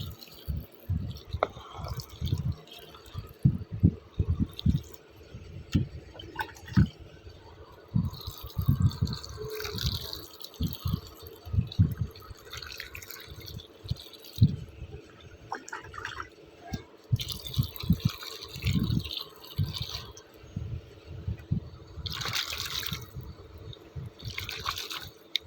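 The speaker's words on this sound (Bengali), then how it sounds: "এবার আস্তে আস্তে আস্তে আস্তে জল দিতে হবে।" Water trickles slowly onto the soil of a potted garden plant, with soft repeated drips and splashes under a low background rumble, close and fairly quiet.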